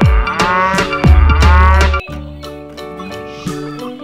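A dancing toy cow plays a loud electronic melody of ringing, bell-like notes with bass thumps, over a steady rhythmic beat, with no talking.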